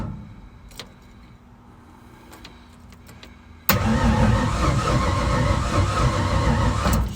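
A hot 1964 Mercedes engine is restarted: about three and a half seconds of quiet idle-free ambience, then a sudden catch into a loud, rough, steady running roar close by.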